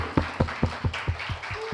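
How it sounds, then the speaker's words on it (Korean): Rhythmic clapping in unison during a Friday church worship service, eight or so sharp, evenly spaced claps about a fifth of a second apart, close and moderately loud. "박수!"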